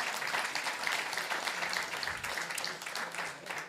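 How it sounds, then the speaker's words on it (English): A room of colleagues at a community meeting claps steadily for a fellow team member, a dense, even wash of applause that holds at a similar level from start to finish with no voices over it. "So one more round of applause for Jairus"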